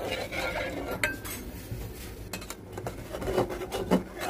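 Rice flour stirred into date palm juice in a cooking pot, with close scraping and clattering of a utensil against the metal, irregular knocks and rubbing over a low steady background.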